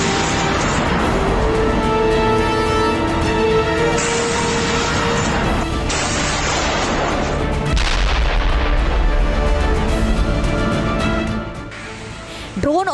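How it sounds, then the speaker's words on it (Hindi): Heavy North Korean artillery in the Russia-Ukraine war booms again and again, loud and reverberant, with deep blasts and sharp cracks layered over a constant roar of battle noise. "नॉर्थ कोरिया की तोपें गरज रही हैं"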